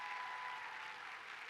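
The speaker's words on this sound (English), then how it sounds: "Can we give all of our award winners a round of applause again?" Audience applause at an annual awards ceremony at Ohio State University, honoring award winners; a dense, even wash of many clapping hands, moderately distant and sustained without any talk over it.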